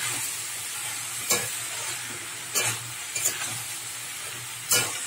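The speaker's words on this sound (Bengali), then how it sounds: "এবার দিয়ে দিলাম ওর মধ্যে, দিয়ে মোচাটা দিয়েও ভালো করে কষাবো।" Boiled banana flower stir-fried in spice paste in a pan with prawns and chickpeas, a steady close sizzle broken by a few sharp stirring scrapes and clatters, no talking.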